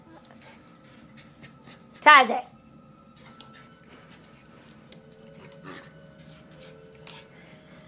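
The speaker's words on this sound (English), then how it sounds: "Puppy fighting is adorable." A Jack Russell puppy and a Pomeranian play-fight, panting softly with one sharp, loud yelping burst near the middle, while a person speaks briefly nearby.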